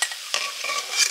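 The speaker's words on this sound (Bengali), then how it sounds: "শেষ রাউন্ড পেঁয়াজি ভাজা হয়ে গেল" Onion fritters (peyaji) fry in hot oil, giving a close, continuous crackling sizzle with a brief stirring scrape near the start.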